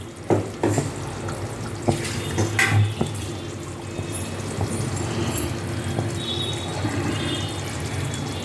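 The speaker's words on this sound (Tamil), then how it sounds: "கொஞ்சமாக தண்ணி ஊற்றுறேன்" Water goes into a pan of cooking thandu keerai greens sundal, first some knocks and stirring, then a steady sizzling, splashing hiss that runs on without voices.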